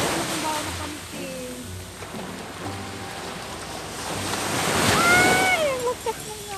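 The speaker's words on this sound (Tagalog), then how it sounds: "Ang lakas ng alon." Strong surf rolls in at a beach, a steady broad wash of breaking waves swelling louder toward the end, with wind buffeting the microphone and voices talking over it.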